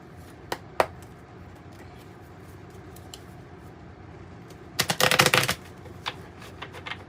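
A tarot and oracle card deck is shuffled in short bursts: a few soft riffling snaps early, then a dense, louder riffle lasting about a second, followed by scattered light card flicks, close and otherwise quiet.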